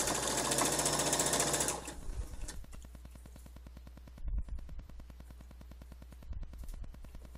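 A sewing machine sews in a garment sleeve, running steadily with a loud fast start that settles into an even, rapid needle chatter, close and continuous with a few small bumps.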